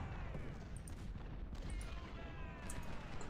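Musket gunfire in Ultimate General: Civil War, a dense rumbling volley of distant shots blending into a continuous low roar, with faint talk.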